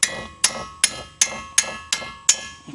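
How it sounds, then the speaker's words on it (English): Seven sharp metallic hammer taps strike at a steady rhythm, close and clear, knocking loose the brake caliper bolts during a DIY brake job on a Hyundai Tucson. "few taps with a hammer,"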